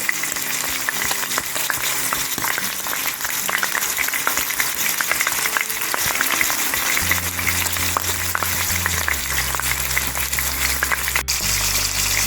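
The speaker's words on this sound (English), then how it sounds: "The meat is sizzling away." Chuck roast searing in an Instant Pot, a continuous crackling sizzle of meat browning in hot fat, close and steady, with a low hum joining near the end.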